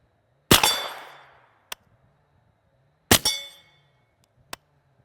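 Two subsonic IMI blue tip 9mm 158 grain pistol shots ring a steel target at 25 yards. Each sharp report is followed by a decaying metallic ring and, about a second later, a short distant ping of steel.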